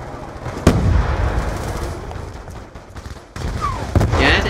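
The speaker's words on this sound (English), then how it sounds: "Frag out!" Explosions and gunfire from a Black Ops 2 multiplayer match, including a frag grenade blast, crack out sharply in a busy fusillade with several loud bursts.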